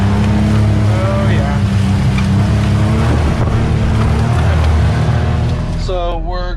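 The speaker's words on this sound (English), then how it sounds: "best to move some dirt with a little bitty excavator" A small excavator's diesel engine runs steadily while moving dirt on a farm, a loud, close, continuous drone with a low rumble, and a voice comes in briefly near the end.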